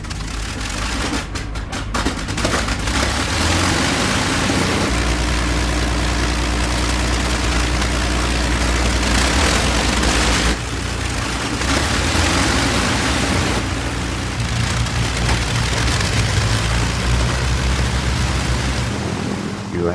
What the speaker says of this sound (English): The sound of 4 Merlins